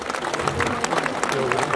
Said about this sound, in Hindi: ताली बजाएर हामीले उहाँलाई त्यो गरौँ।